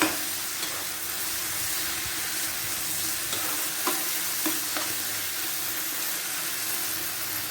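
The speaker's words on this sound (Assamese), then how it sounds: "হলুদ গুড়া, জিৰা গুড়া, এইখিনি ভালদৰে লৰাম।" A spoon stirs turmeric and cumin powder into sizzling tomato chutney made with jaggery, a steady frying hiss with soft scraping strokes and a few small clicks, close and without talk.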